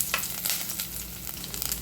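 Sesame seeds and coconut hiss and crackle steadily as they roast in a pan, with faint stirring scrapes and no talking.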